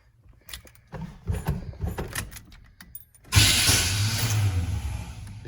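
A Chevrolet C10 truck with a new cam cranks with rough intermittent bursts, then fires up into a loud, rumbling idle that holds steady to the end.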